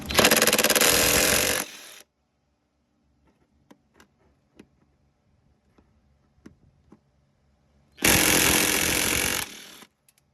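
A pneumatic impact wrench spins off a rear shock bolt on an Audi Q7, two loud sustained rattling bursts, one at the start and one near the end, with quiet clinks and handling noises between.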